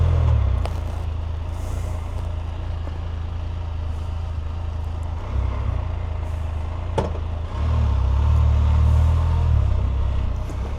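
A 2025 Can-Am Canyon three-wheeler pulls away and rides on, its engine a low steady drone under wind rumble, with the engine note swelling toward the end.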